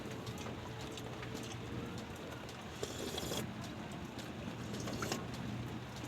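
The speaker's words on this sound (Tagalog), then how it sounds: "Umulan." Rain falls steadily outside a bedroom on a wet day, a soft, even patter of drops with faint distant background noise and no talking.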